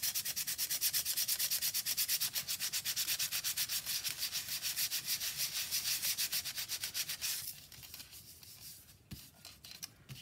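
Steady, rapid back-and-forth rasping of sandpaper rubbing a surface by hand, close and rhythmic, easing to lighter, irregular strokes near the end.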